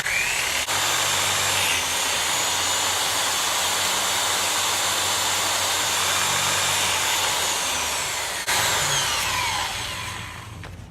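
Chainsaw teeth being sharpened with a powered grinder, a loud, steady high-pitched whine that runs almost without a break, with a short interruption near the end before it winds down.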